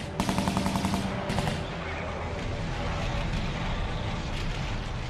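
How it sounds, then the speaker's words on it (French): M16 rifle gunfire opening on a road in wartime, heard as a rapid burst of automatic shots at the start, then a second burst, followed by dense, continuous rumbling gunfire. "un GI a ouvert le feu avec son fusil M16"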